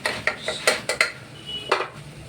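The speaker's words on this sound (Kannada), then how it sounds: "ಅರಿಶಿನ ಪುಡಿ ಮತ್ತು ಗರಂ ಮಸಾಲ ಹಾಕಿ ಮಿಕ್ಸ್ ಮಾಡ್ತಾಯಿದ್ದೀನಿ" A spoon clinks and scrapes against a pot while turmeric and garam masala are stirred in, several sharp metallic taps in an uneven rhythm, close and fairly quiet, with no talking.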